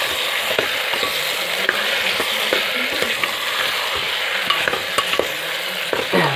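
Goat meat and tomatoes sizzle and fry in a pan while being stirred, a steady bed of crackling frying with scattered scraping clicks from the stirring, close and fairly loud throughout.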